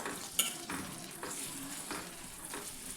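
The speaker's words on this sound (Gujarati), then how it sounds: "હવે તેને આ રીતે હલાવતા રહીને થોડી વાર માટે સાતળી લેશું" Capsicum pieces sauté in hot oil in a pan, a constant close sizzle broken by a sharp utensil clink and several rhythmic scraping stirs at about half-second intervals, with no talk.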